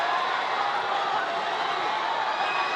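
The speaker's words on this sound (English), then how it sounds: "Crowd is roaring." Dense, steady roar of a boxing arena crowd at a professional bout in Manila, a loud continuous wash of many voices without breaks throughout.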